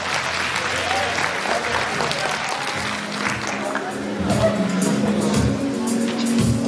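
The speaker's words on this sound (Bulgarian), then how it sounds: "силни аплодисменти още веднъж" Loud, sustained applause from a large audience at a school anniversary celebration, steady clapping filling the whole stretch and swelling slightly near the end, with a voice speaking underneath.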